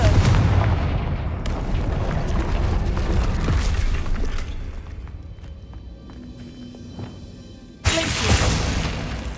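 In Hogwarts Legacy, the Confringo blasting spell fires off in rumbling, booming game explosions with crackling debris that fade and then hit again in a sudden loud burst near the end, with no talking.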